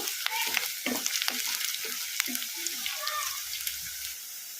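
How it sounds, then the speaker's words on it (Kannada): Onions fry in a pan over a medium flame, a steady broadband sizzle with scattered crackles and scraping stirs throughout, close and fairly loud. "ಈಗ ಇದನ್ನು ಮೀಡಿಯಮ್ ಫ್ಲೇಮಲ್ಲೇ ಫ್ರೈ ಮಾಡ್ಕೋಬೇಕು"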